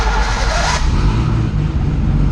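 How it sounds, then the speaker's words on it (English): A Ford Mustang engine fitted with a bigger downpipe, its overheating problem fixed, roars loudly and steadily up close, with a brief brighter surge near the start before settling into a continuous rumble. "Fires up, you know, within a few seconds there."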